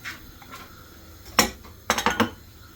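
Steel dishes and spoons clatter and clink during washing in a home kitchen: a few scattered metallic knocks, then a quick cluster of ringing clinks near the end, close and clear with no talk.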